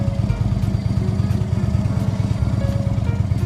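An Indian motorcycle rides along with a steady, pulsing mid-pitched engine thrum and slight clatter, close and constant throughout, with no talk.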